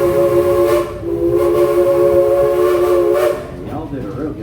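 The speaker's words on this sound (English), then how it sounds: "give us a couple more toots on that whistle" A steam train's whistle gives long, loud, steady toots close by, sounding alone.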